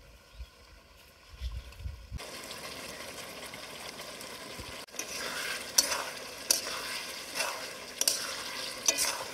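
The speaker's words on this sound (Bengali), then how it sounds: "সেই ভেজে রাখা মাশরুমগুলো এর ভিতরে আমরা দিয়ে দেবো।" Fried mushrooms tipped into a simmering chilli sauce in a village kitchen: quiet at first, then a sudden rise into steady sizzling with repeated scraping stirs and spoon knocks against the pan, close, no talking.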